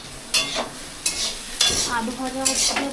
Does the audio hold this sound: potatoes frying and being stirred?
yes